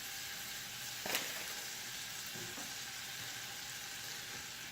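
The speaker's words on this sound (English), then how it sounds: "we're gonna melt half a stick of butter, or half a cup of butter" Butter melts and sizzles in a pan with a steady, close frying hiss, a faint stir or clink briefly rising over it.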